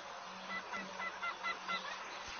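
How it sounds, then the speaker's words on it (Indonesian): Chickens in the Angry Crocodile video game cluck and honk in short repeated bursts over a steady background, moderately close and fairly quiet. "Wow, di mana kita? Banyak sekali ayam."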